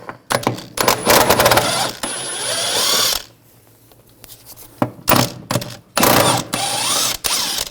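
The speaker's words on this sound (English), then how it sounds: "we're going to take the bolts out up top, use a 16mm socket." A ratchet with a 16mm socket works on the upper rear shock absorber bolts of a 2009-2017 Volkswagen Tiguan, giving loud bursts of clicking and metallic rattling, broken by a short quiet pause, with no talking.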